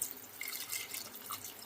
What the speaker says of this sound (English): So what I'm going to do right now is add a little bit of water back in.